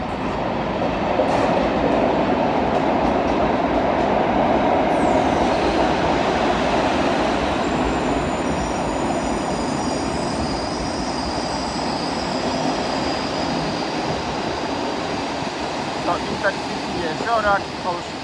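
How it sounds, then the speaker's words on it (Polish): A PKP Intercity passenger train hauled by a class EU07 electric locomotive rolls past at close range at a station, a loud steady rumble of wheels and wagons with squealing rails throughout and high whines drifting over it. "Jedzie kolejna siódemka PKP Intercity, tym razem 382."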